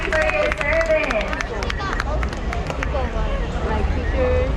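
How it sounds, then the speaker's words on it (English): Applause and scattered cheering from a crowd of tourists aboard a river boat tour honoring a teacher, a dense patter of claps lasting throughout with voices mixed in. "Can we give them a round of applause, please?"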